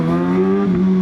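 A Kawasaki ZX6R inline-four motorcycle engine revs loudly up close, a strong steady tone that climbs slightly in pitch over one brief rev.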